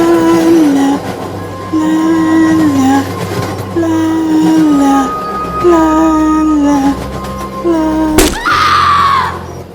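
A moving train in an animated ghost story, rumbling steadily beneath repeated tonal whistle-like sweeps, then a sharp loud impact followed by a high scream-like cry.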